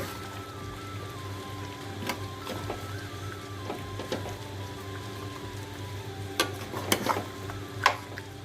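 Fenugreek leaves stirred in a pan for methi chicken, a steady soft hiss and rustle under faint background hum, with a few sharper utensil scrapes toward the end.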